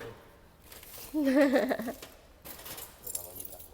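A bunch of keys jangles with a brief metallic clinking burst, close by, while a person talks nearby before and after.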